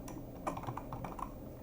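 Brisk typing on a computer keyboard while writing code, a quick run of close, soft key clicks in an irregular rhythm with no talking.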